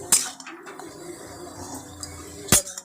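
A lid goes onto a pot of brinjal curry on the stove, with two sharp metallic clinks, one at the start and one near the end, and quiet kitchen noise between them.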